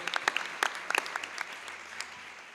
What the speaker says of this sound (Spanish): También hacemos un aplauso a la distancia.